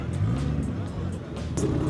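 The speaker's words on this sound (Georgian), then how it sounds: "აგერ მაჩიტას მანქანა არის." A race car at a drag racing event idles and revs nearby in a low engine rumble with crowd noise, while someone talks over it.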